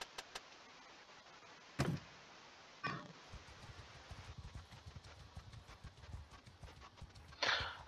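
Horse hooves clip-clop in Mount and Blade 2 Bannerlord, a steady run of soft hoofbeats under quiet ambience, cut by a few sharp louder knocks and bursts.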